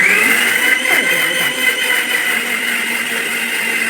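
A mixer grinder whirring as it grinds coconut chutney, a loud continuous high-pitched motor whine with steady rattle, close and unbroken for the whole stretch with no talking.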